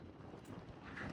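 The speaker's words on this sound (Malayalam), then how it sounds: "കാറ്റ് എന്ന് പറയുന്നത് ലിമിറ്റില്ലാതെ കാറ്റടിച്ചുകൊണ്ടിരിക്കുകയാണ്" Strong, gusting wind buffets the microphone on a rocky hilltop at the Vaamala Ayyappan temple in Palakkad, Kerala, a steady broadband roar swelling slightly toward the end, with no talk.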